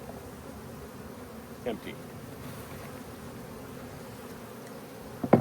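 Honey bees buzzing steadily around hive frames being pulled from a box, a soft continuous drone with a couple of brief knocks, no talking over it.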